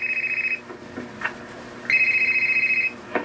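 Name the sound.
phone ringing, incoming call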